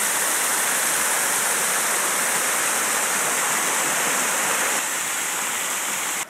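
A mountain stream rushes through the Schleifmühlklamm gorge near Unterammergau, a dense, steady roar of churning water close by, constant throughout with no voices.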